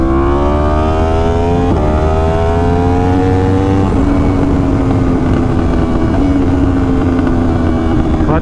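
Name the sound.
Yamaha R1 motorcycle clutchless downshifting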